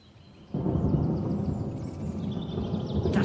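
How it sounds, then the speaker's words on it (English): Low, rolling thunder rumbles in from about half a second in and carries on steadily to the end, fairly loud and broad, with no voices over it. "That's probably thunder."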